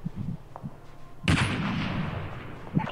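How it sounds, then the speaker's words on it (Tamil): Gunfire in Call of Duty Mobile gives one loud, sudden blast followed by a rumbling, fading decay over a quiet background. "சிவா யாரையும் சுட்டுட்டு இருக்கான்டா"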